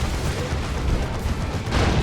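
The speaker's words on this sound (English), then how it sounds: "Las Cannon is getting shots." Lascannon fire in a Space Marines versus Imperial Guard battle in Dawn of War 2, heard as a dense, booming blast of heavy weapon fire that rolls on continuously with no clear gaps.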